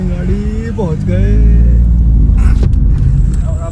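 A car climbs a road toward a waterfall in Palau, its engine a loud low rumble swelling after the first second and holding steady, with a person talking over it at the start.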